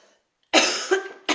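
A couple of harsh, close coughs, the first drawn out and raspy, followed by a short pause and another brief cough.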